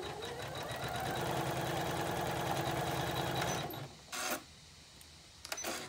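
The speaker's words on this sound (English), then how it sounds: "we are going to stitch the next row of stitches, which will be our lace" An embroidery machine stitches lace edging in the hoop for an in-the-hoop coat hanger project, a loud steady mechanical whir and rapid rattle for about three and a half seconds, then stopping with brief clicks and handling noises after.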